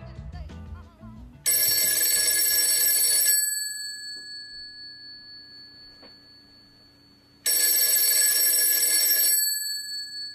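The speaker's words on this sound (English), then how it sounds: "Heavens above, it's that phone again" A telephone rings in two long electronic bursts separated by a few seconds of near silence, bright and clear.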